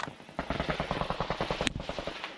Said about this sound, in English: we hear some machine gun fire out there